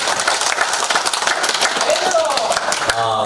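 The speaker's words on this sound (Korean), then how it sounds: "박수로 우리 하나님 앞에 영광 드립니다." Congregation clapping in a church, a dense steady patter of many hands that continues evenly throughout, with voices mixed in beneath the applause.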